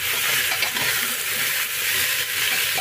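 Eggplant and tomato mixed vegetables sizzle loudly in a frying pan with a steady hissing fry while a spoon stirs them, giving soft scraping under the constant sizzle.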